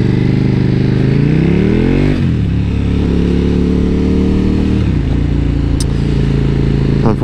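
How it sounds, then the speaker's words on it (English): A KTM 1290 Super Duke R motorcycle on a ride, its engine loud and close throughout, droning steadily with two distinct dips and recoveries in pitch as the rider shifts or changes throttle, with wind noise underneath. "So today, this ride is the last time I get to ride her."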